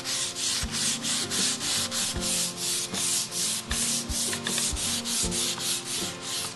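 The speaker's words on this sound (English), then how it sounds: "we're going to start by wet sanding again" Steady back-and-forth rubbing of wet sanding on a wooden palette finish, worked with the grain, each stroke close and even in a regular rhythm with occasional soft knocks.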